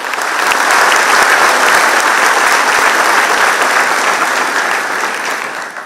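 Audience applause at a Gujarati speech event, a dense, steady wash of many hands clapping loudly and evenly for about six seconds, easing slightly at the end with no talk over it.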